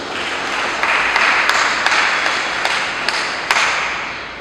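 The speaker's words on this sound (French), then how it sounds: "vous pouvez aussi vous applaudir pour vous-même" Loud, steady applause from a church congregation at a thanksgiving Mass, dense hand-clapping with a few sharper individual claps standing out throughout.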